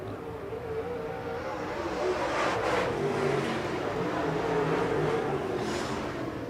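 Late model race car number 111 with a Hatfield racing engine at Red Hill Raceway during MARS qualifying, a loud sustained engine roar rising and swelling as it passes at speed, with no talk.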